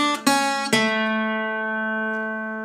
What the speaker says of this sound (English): he'll play five notes that sound like this.